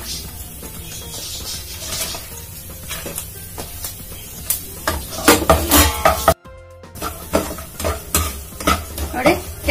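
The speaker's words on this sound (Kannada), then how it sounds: "ನೋಡಿ ಕ್ಯಾಶ್ಯೂ ನಟ್ಸ್ ಕೂಡ ಈಗ ಫ್ರೈ ಆಗಿದೆ" Cashew nuts stirred and fried in a pan for dry fruit laddu, with dense scraping, clinking strokes of a spoon over a soft continuous sizzle, growing busier and louder partway through after a brief silent break.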